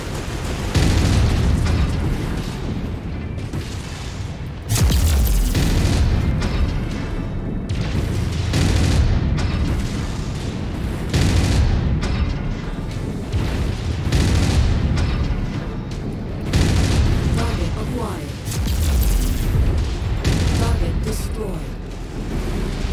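Heavy artillery barrage in a war video game, a run of deep booming explosions arriving in repeated waves, loud and close, with radio-style voices talking between blasts.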